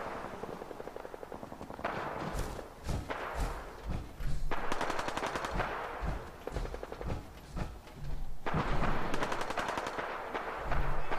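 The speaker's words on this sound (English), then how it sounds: "they start fucking shooting at me" Rapid bursts of enemy gunfire in the video game Fallout 4 outside Saugus Ironworks, loud, close volleys of automatic shots in repeated clusters with brief pauses between them.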